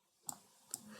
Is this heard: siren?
no